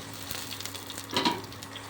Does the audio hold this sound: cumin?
yes